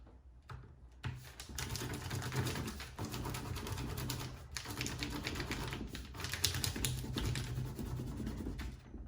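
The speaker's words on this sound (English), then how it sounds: "take my white crayon and I'm just going to rub pretty vigorously all over" White crayon rubbed hard and fast over paper held flat on leaves, a watercolor resist technique; a close, continuous dry scratching with quick rhythmic strokes and brief pauses.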